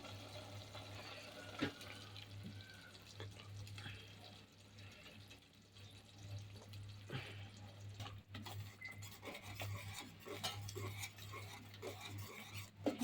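Fresh spinach is stirred into a tomato-onion gravy cooking in oil for palak paneer, making faint, intermittent wet scraping and squelching sounds over a steady low hum.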